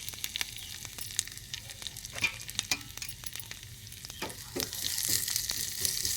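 Cumin, curry leaves and crushed garlic frying in oil for coconut rice, a quiet continuous sizzle broken by frequent scraping stirs, rising slightly toward the end, with no talk.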